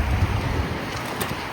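Wind gusting through a snowstorm on a low-visibility road, a steady broad roar buffeting the microphone for a short stretch with no voices.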